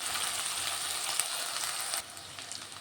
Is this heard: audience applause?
no